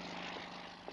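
A helicopter flies overhead with a dense, steady rotor chop and engine drone that stays level and fairly distant throughout the brief moment.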